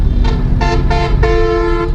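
A car horn on a Mahindra XUV300 petrol honks loud and close in several short toots followed by one longer blast, with the car's engine running underneath.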